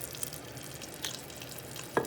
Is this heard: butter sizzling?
yes